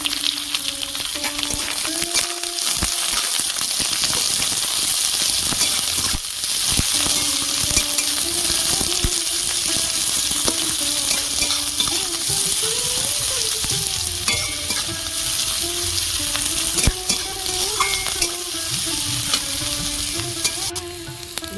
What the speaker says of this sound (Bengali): রসুন আর পেঁয়াজ আমি বেশি ভাজবো না